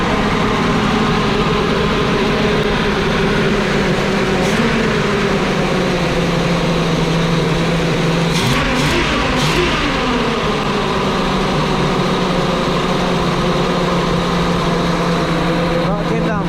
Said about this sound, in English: we'll tap that gas pedal, and then it should idle down